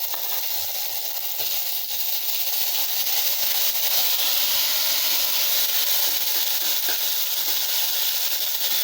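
Ginger-garlic paste fries in hot oil with cinnamon, cloves, kalpasi and fennel for a Coimbatore-style brinjal gravy, producing a steady, even, close hiss throughout.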